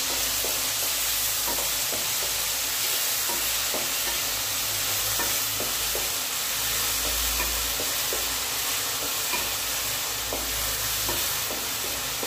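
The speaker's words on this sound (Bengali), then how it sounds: "পেঁয়াজটা আমি বেশি ভাজবো না, 2 মিনিট মতো ভাজবো" Finely chopped onions sizzling in a pan for pasta, a dense continuous fry hiss with light intermittent scraping taps from stirring, close and steady with no voices.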